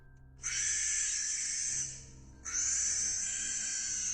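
Two long, loud owl-like screeches sound close by, each held for about two seconds, with no talking.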